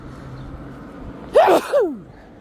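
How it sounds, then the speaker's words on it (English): One sharp sneeze up close, a burst of breathy noise followed by a short voiced tail as it trails off. "I sneezed like Mario going, Yahoo!"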